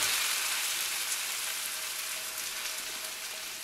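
Noodles fry in scallion sesame oil in a wok with a dense, steady hissing sizzle that slowly eases, close and continuous, with no voices.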